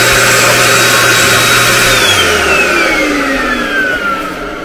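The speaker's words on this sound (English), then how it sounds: "So we can run the vacuum cleaner." A vacuum cleaner runs from a power inverter on the 12-volt system of a 1965 Scotsman vintage trailer. Its loud, close whine holds steady, then drops in pitch as the motor winds down.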